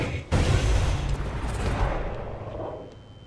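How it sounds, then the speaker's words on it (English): A massive explosion during a Destiny 2 live event, opening with a sudden deep boom that rolls into a long, loud rumbling roar and slowly fades over several seconds, with no voices. "Hear an explosion."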